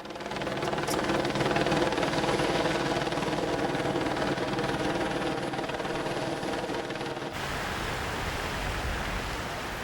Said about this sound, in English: The State Police helicopter Air 1 keeps vacated homes free of looters.